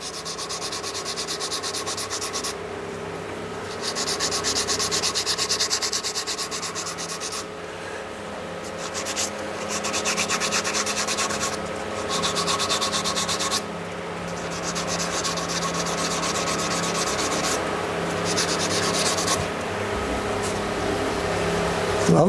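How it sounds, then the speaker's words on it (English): A pad sands a brown mallee burl wood shaving brush handle with steady, close abrasive rubbing. The strokes come in rhythmic bursts with brief pauses between them and no talking. "I'm just going to give that bit there a little bit of a sand"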